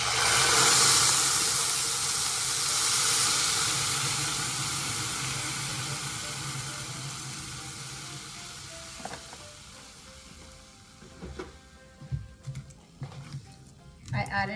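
Whole milk poured over toasted vermicelli noodles in a hot pan, giving a loud steady sizzle and steaming hiss that slowly fades, followed by scattered stirring clatters near the end.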